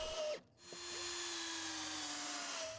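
A power drill drives Cortex screws into a PVC deck board, a brief pause in the motor followed by a steady, fairly quiet high whine that holds to the end.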